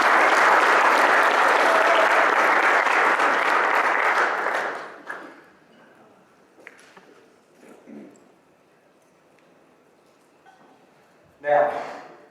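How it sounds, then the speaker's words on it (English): An audience gives volunteer John a round of applause at a talk on responsibility. Loud, dense clapping fills the room for several seconds, then stops abruptly, leaving faint room noise and a few scattered sounds. "Give John a round of applause."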